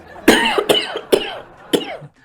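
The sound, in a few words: person coughing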